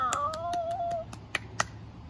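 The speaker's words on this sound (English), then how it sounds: "She clapped to frighten the cat away." Hand claps ring out in a steady rhythm of about eight sharp, close strikes, the last two louder and spaced apart, while a sung melody plays under the first half.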